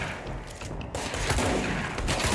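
Alien shotguns fire in the sci-fi action game Control, with a dense, continuous barrage of booming blasts and crackling impacts filling the whole moment at close range.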